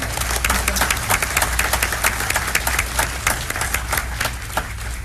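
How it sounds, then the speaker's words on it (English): Many hands clap in sustained, dense applause from an audience at a school district board of education meeting, fairly loud and steady throughout, with a low hum underneath. "have one more round of applause for Mrs. Kay?"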